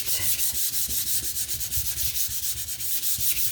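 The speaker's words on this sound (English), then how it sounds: "you are going to come in here and sand" A painted wooden sign is sanded by hand with quick, steady back-and-forth strokes, close up, forming a continuous rhythmic rasp with no talking.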